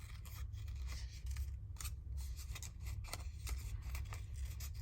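Scissors snip paper ephemera during a crafting session, a steady string of quick close cuts with faint rustling in between, set against a low background hum.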